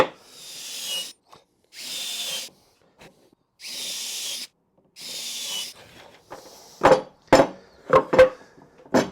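A power drill bores holes in wood for a miter station, four loud whirring bursts of about a second each separated by pauses, followed by several short sharp knocks and clunks.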